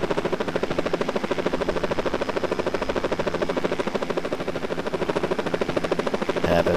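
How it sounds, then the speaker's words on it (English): A helicopter flies in a flight simulator video game, its rotor chopping in a steady, fast, loud rhythm with a constant engine drone throughout. "Having some fun in the helicopter."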